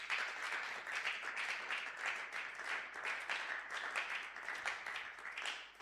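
A church congregation at a Sunday worship service applauds loudly for Jesus, with sustained, dense clapping from many hands filling the room without pause.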